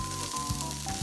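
Onion and garlic sizzle steadily in olive oil over medium heat, a close, continuous frying hiss lasting about a second, with no voices.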